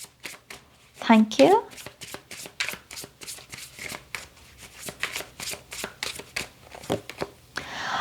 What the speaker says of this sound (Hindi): आपके लिए कार्ड्स को शफल करते हैं।